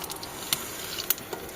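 Potatoes frying in hot oil while cooking a mutton dish on a terrace give a faint, steady sizzling hiss, dotted with a few sharp pops and crackles.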